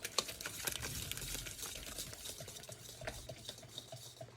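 A whisk stirs cranberry juice into a cream cheese glaze for a cranberry pecan spice cake, giving soft, close, continuous scraping and clicking against the bowl with a few sharper taps.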